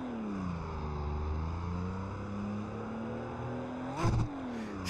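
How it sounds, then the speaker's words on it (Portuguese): An air-cooled engine in a drag Baja car runs steadily nearby, a low droning idle with a brief louder rev-like swell near the end. "É o motorzinho a ar, ó, funcionando."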